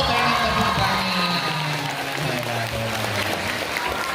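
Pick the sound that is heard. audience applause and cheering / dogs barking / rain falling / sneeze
audience applause and cheering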